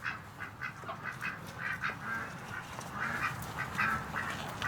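Ducks quack repeatedly in short, bunched calls close by near a swamp, with a steady background rumble under them and no talking.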